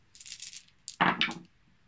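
Dice rolled for initiative in a Classic Battletech tabletop game: a light rattle shaken in a cup, then a louder clatter as they tumble onto the table and settle, close and alone.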